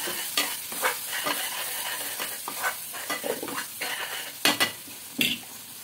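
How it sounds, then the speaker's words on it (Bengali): Ground masala sautéed in a pan for an egg and fennel dish, a steady sizzle punctuated by irregular scraping strokes and a few louder clanks of the spatula against the pan, no voices. "একটু ভালো করে কষিয়ে নেব।"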